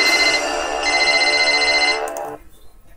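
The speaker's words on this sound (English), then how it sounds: "And the phone rings again." A telephone rings loudly in a steady, continuous trill on a game show, ringing alone for about two seconds before cutting off, with a brief voice at the end.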